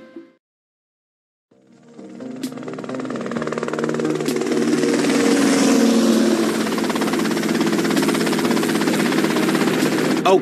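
A helicopter in GTA Vice City starts up after a brief silence, its engine and rotor noise building into a loud, steady drone that holds to the end.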